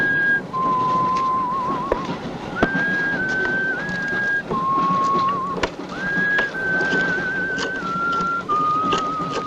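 A person whistling a tune in a film scene, clear sustained notes in short phrases that rise and dip in pitch, separated by brief pauses, with soft ambient noise underneath.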